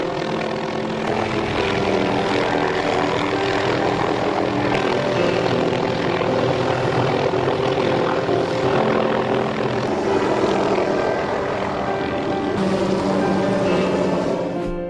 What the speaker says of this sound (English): They had to call in a helicopter to save a seagull stuck on a power line